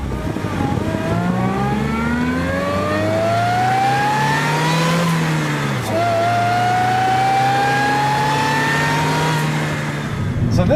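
A supercharged 2006 Mini Cooper S revs up through the gears, its engine pitch rising in long climbing sweeps with a shift dip midway. The sound is loud and close, with a faint supercharger whine above the engine note.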